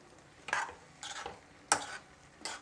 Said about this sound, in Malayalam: ഇനി നമുക്കിത് മൂടിയെടുക്കാം. ഇനി നമുക്കൊന്ന് ഇളക്കി കൊടുക്കാം.